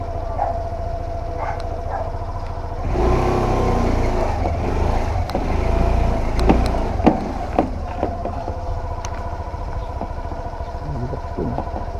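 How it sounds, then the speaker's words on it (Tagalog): A motorcycle rides into a narrow, crowded market street, its engine rising to a close, rumbling pass over steady crowd and vendor noise, then fading as the busy market chatter continues. "May pumapasok na motor dyan"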